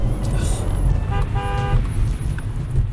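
A brief car horn toot followed by a longer honk, both loud and close, over the low rumble of an engine and road traffic.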